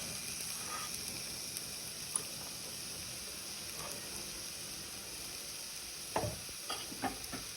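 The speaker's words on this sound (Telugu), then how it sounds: "మంచిగా సిమ్లో పెట్టుకొని ఫ్రై చేసుకోవాలి" Chopped onion and carrot fry gently over low heat in a pan for pasta, a steady soft sizzle with a few faint stirring clinks near the end, heard close and alone.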